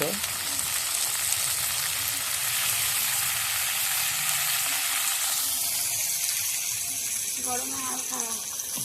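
Chicken meat goes into a pan of fried onions and sizzles steadily and loudly throughout, a dense crackling hiss with some stirring and scraping near the end.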